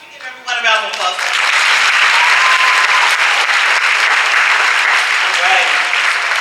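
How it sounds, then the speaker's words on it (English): A large audience applauds loudly and steadily at a charter high school's first-ever graduation commencement, the clapping swelling quickly and holding as a dense, sustained ovation, with a voice speaking faintly at the very start. "Can we give everyone a round of applause?"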